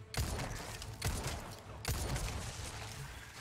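Bursts of turret gunfire in Resident Evil 4 Remake, three loud broadband volleys about a second apart, each starting with a sharp crack and trailing into sustained rattling fire.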